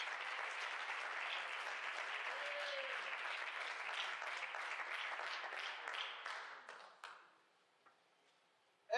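A church congregation claps loudly and steadily for several seconds during a service, then the applause thins to scattered claps and fades into near silence.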